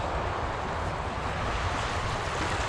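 Clear glacial meltwater river running down from the mountains near Banff, Canada, a steady broadband rush of flowing water with some wind noise, constant and close, no voices.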